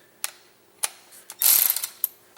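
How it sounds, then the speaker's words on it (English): A socket ratchet turns a part on a Craftsman Gold lawn mower by hand, giving a few sharp isolated clicks, then a short burst of rapid ratcheting, close and clear, with no talking. "I'm just going to turn it by hand with my socket."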